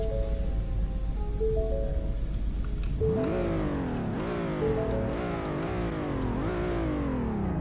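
A Roblox car engine, Sport trim, idles with a steady low hum, then revs hard and climbs through several gear shifts, pitch rising and dropping repeatedly.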